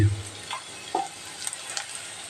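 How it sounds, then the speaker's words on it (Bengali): Red amaranth leaves frying with green chilli in a pan, a low steady sizzle with a few scattered stirring scrapes and clicks, fairly quiet and close, with no talking. "ভাজা হচ্ছে এখন এবার আমি এটা লাল শাকগুলো দিয়ে দিচ্ছি"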